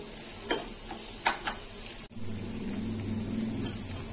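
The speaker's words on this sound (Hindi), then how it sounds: "मसाला को मटर के साथ फ्राई करेंगे" Peas and masala sizzle steadily in a hot pan while a spoon stirs and scrapes a few times, close and clear.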